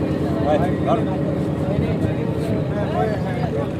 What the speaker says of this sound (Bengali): আমি এই নৌকা পুকুরে উঠতেছি